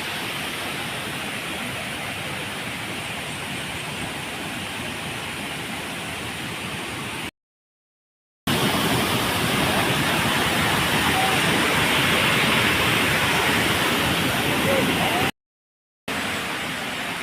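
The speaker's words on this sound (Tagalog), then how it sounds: "Waterfalls there." A waterfall at Central Cave in Catbalogan City, Samar, Philippines roars as a steady, broad rushing wash of falling water, loud and continuous with two brief gaps.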